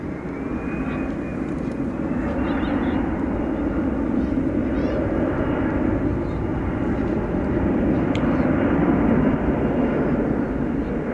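A fixed-wing airplane takes off at night from a runway at DFW Airport, its engine roar a loud, steady broadband rumble filling the whole stretch, with faint radio chatter in the background.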